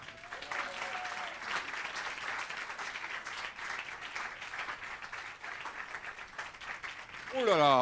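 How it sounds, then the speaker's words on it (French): An audience at a francophone fundraising seminar applauds a speaker called to the stage with steady, full-bodied clapping that lasts throughout. A voice breaks in at the very end. "Sous vos applaudissements, s'il vous plaît"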